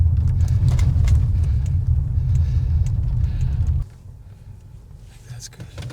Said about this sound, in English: Should we take the car up here?